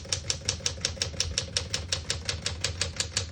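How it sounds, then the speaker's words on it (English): Typing on a 1964 Smith-Corona Sterling vintage portable typewriter: a quick, even run of sharp mechanical key strikes, about six per second, close and clear with no talk. "We're going to keep it on single for now and finish typing."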